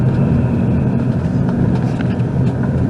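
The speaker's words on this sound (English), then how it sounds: "That car just stopped. And now they're backing up." A car runs on a backcountry road near Weary Road, Evansville, Wisconsin, giving a steady, loud, close engine rumble with no clear change over three seconds.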